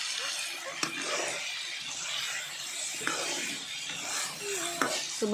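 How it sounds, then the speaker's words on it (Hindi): Fresh potatoes frying and being stirred in a pan in a village kitchen, a steady sizzling hiss broken by a few sharp scrapes and clinks of the utensil against the pan. "आलू की फ्राइज आलू बनाए जा रहे हैं"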